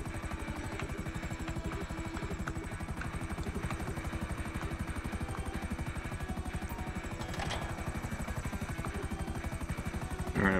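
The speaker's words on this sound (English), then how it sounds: "He must have read the phone number on the side of the helicopter." A helicopter in GTA Online: the rotor thumps steadily with a constant engine drone throughout, loud and close, with a slight rise in noise near the end.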